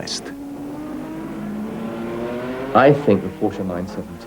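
Porsche 917 race car at Le Mans, its engine note climbing steadily in pitch as it accelerates, then a sharp, loud burst of revs near the end with a voice speaking over it.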